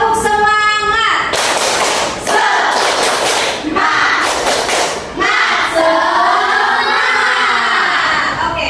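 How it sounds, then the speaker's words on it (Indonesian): A school class does a rhythmic spirit clap together. Loud, close bursts of group clapping and chanted voices come in repeated rounds, and the room fills with children's shouts between them. "Tepuk semangat."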